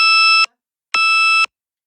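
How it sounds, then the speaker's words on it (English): A smoke alarm sounds two loud, piercing electronic beeps, each about half a second long and separated by a short silence, close by and alone. "it's going to scare me for a while with this little beep going off"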